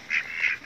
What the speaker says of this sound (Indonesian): Ini jenenge ki bebek apa belibis ini